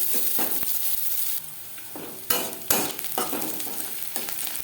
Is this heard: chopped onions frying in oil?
yes